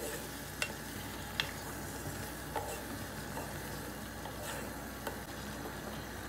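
Shrimp frying in a pan with butter and red pepper, a steady close sizzle with occasional sharp stirring clicks and scrapes.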